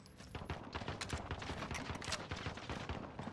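Rapid, dense automatic gunfire in Call of Duty Warzone on Rebirth Island, with overlapping shots cracking in a continuous fusillade for a few seconds.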